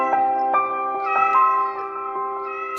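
A kitten meows loudly and close up in a long, wavering series of drawn-out, tonal cries with brief dips between them, alone without talk.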